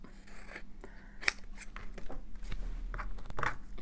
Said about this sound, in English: I'm cutting glue. I'm going to make my scissors gloopy.